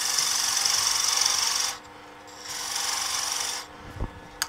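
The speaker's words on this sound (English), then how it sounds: "using an ordinary parting tool" An ordinary parting tool cutting a tenon on a wood lathe, a close hissing rasp in two bursts separated by a short pause, followed by a few light knocks.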